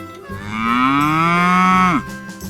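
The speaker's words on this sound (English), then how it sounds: "The cow moos." A single long, loud cow moo rises and holds for over a second, then drops off sharply, close and clear with no talking.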